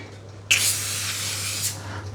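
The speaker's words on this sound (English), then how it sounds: "And we're just going to be spraying our patty pan" A short burst of canola oil aerosol spray onto a patty pan hisses for about a second after a quiet moment, close and sharp, over a faint low hum.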